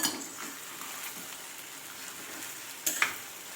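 Sabudana khichdi with crushed green chilli fries softly in a pan while being stirred, a faint, even sizzle with a couple of louder scraping clatters near the end.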